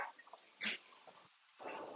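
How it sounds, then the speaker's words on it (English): A dog gives a few short, muffled barks and whimpers at a moderate distance indoors, with brief pauses between them. "Doggy barking."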